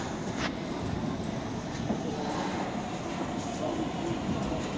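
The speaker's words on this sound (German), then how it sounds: "U1 Richtung Eberhardshof fährt auf Gleis 1 ein." A Nuremberg U-Bahn U1 subway train arrives at the platform with a continuous loud rolling rumble and rail noise, steady throughout with a brief high squeal near the start.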